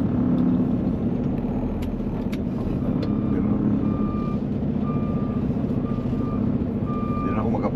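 A truck reverses with a steady, evenly spaced backup beep repeating over a low idling engine rumble, the beeps fairly faint against the engine noise.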